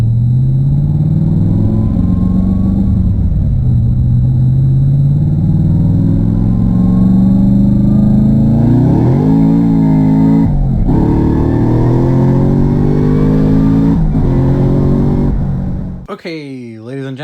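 Supercharged street car with a suspected misfire idles with a deep rumble, then its engine revs up and down several times, loud and close, before a sharp cut near the end.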